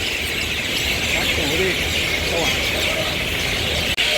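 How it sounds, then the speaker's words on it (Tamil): A dense, continuous chorus of myna birds squeals and chirps overhead at a busy open-air vegetable market, loud and steady, with faint traffic noise mixed in. "சரியான பறவைகள் சத்தமாக இருக்கு. மைனாவா? முள்ளுக்க மைனா தான்."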